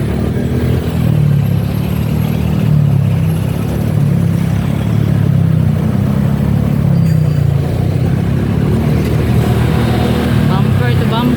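Heavy bumper-to-bumper Friday road traffic near a bridge in Cebu: a constant, loud low rumble of car and motorcycle engines, droning steadily with no break.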